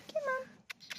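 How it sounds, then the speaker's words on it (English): A cat gives a short, close meow, followed by a couple of faint rustling sounds. "look at this cute cat"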